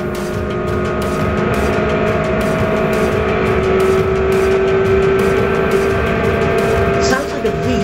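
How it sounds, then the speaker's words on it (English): A hatchback with an engine said to sound like a V6 drones steadily and loudly throughout, its sustained engine note rising slightly in pitch as it pulls, with road and wind noise mixed in. "It sounds like a V6."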